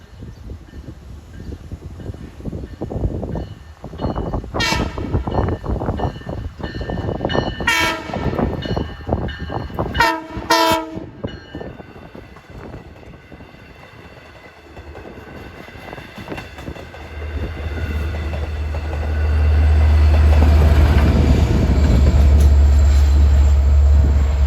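Eastbound equipment train on the Montauk line, running from Patchogue to Babylon, sounds several loud horn blasts while rumbling past with clattering wheels, then a heavy low roar builds as the train draws near and passes.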